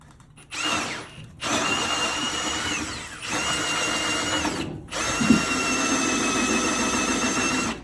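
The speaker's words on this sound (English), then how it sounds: "we're going to drill down from below, we're going to drill up above" A power drill whirs through a wall in three long bursts separated by short pauses, loud and close, with a grinding edge as it bites into material.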